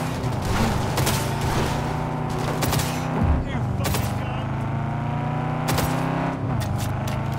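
Sharp bursts of gunfire crack repeatedly over a steady vehicle engine drone during a driving chase in Cyberpunk 2077, with a player talking intermittently over the action.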